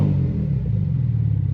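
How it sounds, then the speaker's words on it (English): Stainless steel LCE Performance exhaust on a TÜV-approved car with downpipes, giving a loud, steady low rumble up close with slight fluctuation, idling or lightly revving, no talk over it. "it has this stainless steel exhaust from LCE Performance"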